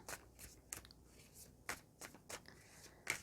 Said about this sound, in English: let's get the cards shuffling